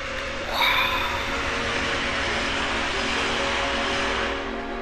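A train rolls along rails in the video game Final Fantasy VII, a steady rumbling drone with faint tonal hum and a brief squeak near the start, continuous and fairly loud.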